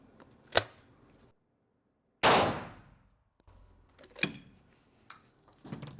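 Shotgun blasts from 12, 20 and 410 gauge guns fired during choke pattern testing, three sharp loud reports spaced apart, each followed by brief echoing decay, with small handling clicks between.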